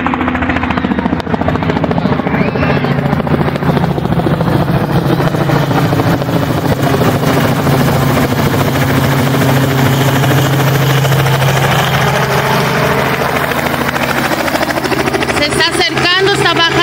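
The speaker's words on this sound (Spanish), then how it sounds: "ahí viene el helicóptero" A helicopter approaches and sets down at a park Easter egg event in Dayton, Ohio, its loud rotor thump and engine roar steady and close throughout, with people talking over it.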